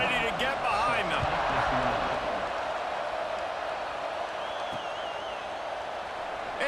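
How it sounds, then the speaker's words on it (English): A College Football 26 stadium crowd at kickoff, with Oregon hosting, roars in a dense, steady wall of noise that holds loud for the whole stretch and eases only slightly toward the end. "They're set to kick it off, and this crowd now ready to get behind them."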